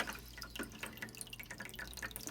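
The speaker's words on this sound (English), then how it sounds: "And then rinse the cap off." Tap water runs steadily as a dechlorinator bottle cap is rinsed under it at a sink, a soft continuous stream with small dripping and splashing detail, close and fairly quiet, with no talking.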